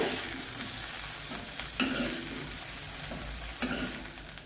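Vegetables for sambar sauté in a pan, giving a steady close sizzle with a few scraping stirs at intervals and no voices.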